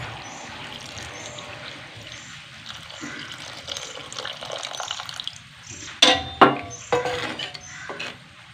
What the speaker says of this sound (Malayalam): തേങ്ങാപ്പാൽ ഒഴിക്കാം